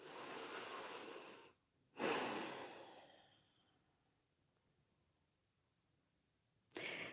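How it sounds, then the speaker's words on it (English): Slow breaths drawn in and out through the nose during a yoga session, a long soft exhale, a short sharper inhale and another breath starting at the end, close and quiet with no talk. "Inhale and exhale through your nose."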